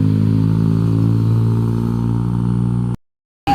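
A heavily loaded truck labouring up a steep hill, its engine a loud, steady low drone with strong harmonics, cutting out abruptly near the end before briefly returning.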